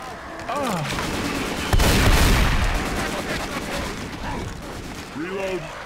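Dense gunfire in Left 4 Dead 2 co-op play, rapid continuous shots with a heavy blast partway through, and short whooshing game effects at the start and end.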